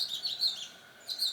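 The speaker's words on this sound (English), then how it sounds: "Those birds are going to town right now." Small birds near a nest chirp in quick, high, faint tweets, two short clusters separated by a brief pause, with no voices present.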